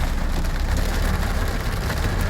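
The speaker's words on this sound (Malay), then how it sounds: "Ni hujan pula." Steady rain falls in Kedah, Malaysia, a dense, continuous patter that stays loud and even throughout, with no voices over it.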